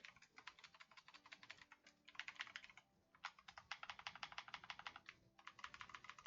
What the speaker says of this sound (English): Sorry if you can hear me typing this aggressively